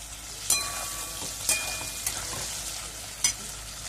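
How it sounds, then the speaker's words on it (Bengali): Spice paste fries in hot oil in a kadai with a little salt, giving a continuous soft sizzle, with a few brief clinks and scrapes of a spoon stirring at intervals. "এখানে আমি পেস্টটা ভেজে নিচ্ছি"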